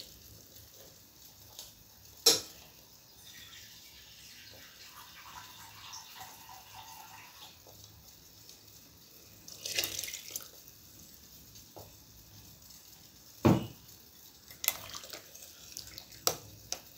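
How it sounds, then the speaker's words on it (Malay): Water is added to a pot of curry for mee kari, heard as faint trickling and splashing with occasional clinks and knocks against the pot in a quiet kitchen. "Tambahkan air lagi"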